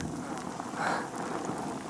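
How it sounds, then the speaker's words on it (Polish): Rain falls steadily on a winter mountain trail to Skrzyczne near Szczyrk, a soft continuous hiss of drops with no voices. "pada deszcz"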